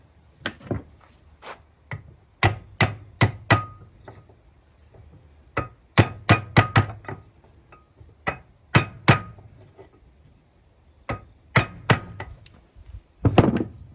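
A hammer taps a wood lathe bearing washer to straighten it, giving sharp, close metallic strikes in quick clusters of two to four blows with short pauses between, and no speech.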